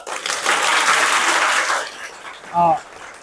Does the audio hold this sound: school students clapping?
yes